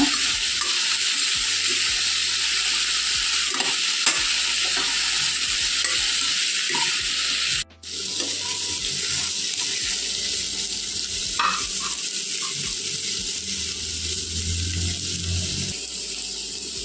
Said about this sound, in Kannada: ಸಣ್ಣ ಉರಿಯಲ್ಲೇ ಸ್ವಲ್ಪ ಬೇಯಬೇಕು. ಒಂದು 5 ನಿಮಿಷ ಫ್ರೈ ಆಗಲಿದೆ.